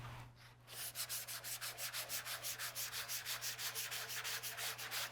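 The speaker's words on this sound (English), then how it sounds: "we'll go ahead and grab our sandpaper and we'll start sanding our capsule and our body." Sandpaper scrubbed by hand over a capsule and body, in quick, even back-and-forth strokes that repeat steadily throughout, close and fairly quiet over a constant low hum.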